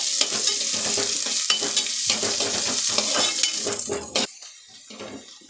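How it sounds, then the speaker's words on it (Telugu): Onions frying in a pan for a Telugu-style rasam, with steady sizzling under repeated scraping and clinking stirs of a metal utensil, the stirring easing off toward the end. "ఇప్పుడు అది ఫ్రై అయింది, ఆనియన్ వేసుకుంటా. ఇది కొంచెం ఫ్రై కావాలా."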